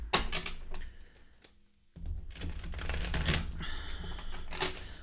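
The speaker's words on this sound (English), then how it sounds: "I'm going to just shuffle these upside down." Rapid papery riffling of tarot cards being shuffled, a steady crisp flutter close by with a brief pause near the start, no voices.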